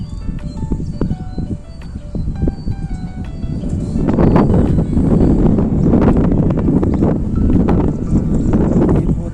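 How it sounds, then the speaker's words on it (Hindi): Strong wind gusts across a rooftop in the rainy Uttarakhand hills at Bamrari village, rising into a loud, steady roar of buffeting wind noise from about halfway through. "तेज हवा चल रही है इस टाइम पे।"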